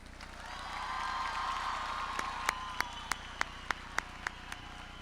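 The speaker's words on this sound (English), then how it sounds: "Will the audience please help me in giving these graduates a big round of applause?" Manzano High School graduation ceremony for the class of 2025, with a distant crowd cheering and applauding, fading into a few sharp, evenly spaced claps from nearby.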